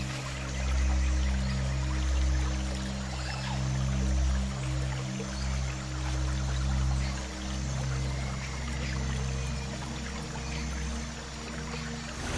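Cascading river rapids where salmon leap upstream, a loud continuous rushing roar of water with steady low rumble throughout, no voices.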